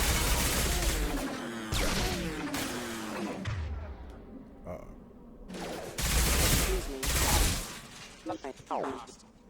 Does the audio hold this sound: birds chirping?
no